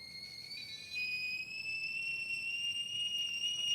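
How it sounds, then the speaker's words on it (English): A liquid level alarm sounds as hot water fills a cup and touches its two prongs: a steady, piercing electronic tone that steps slightly louder about a second in, then holds continuously, close and clear. "when the hot water level reaches and touches the 2 prongs, you're going to hear that alarm"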